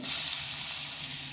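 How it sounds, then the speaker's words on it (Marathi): Chopped garlic and green chili sizzle steadily in hot oil with cumin, a close, even hiss that holds without a break. "यामध्येच आपण लसूण आणि हिरवी मिरची बारीक करून घेतलेली आहे ही देखील घालून घेऊया"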